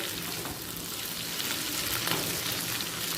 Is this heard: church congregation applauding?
no